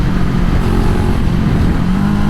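A 2022 BSA Gold Star motorcycle engine pulls hard on the open road, a loud, close, continuous throaty roar with wind rush and no pause.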